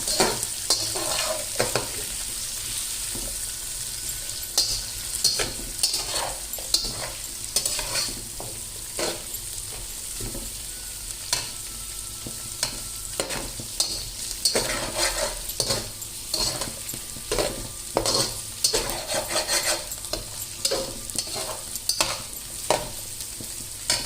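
Pieces for egg fried rice sizzle in a hot pan while a spatula scrapes and stirs in frequent irregular strokes, the clatter rising over a constant frying hiss with no speech.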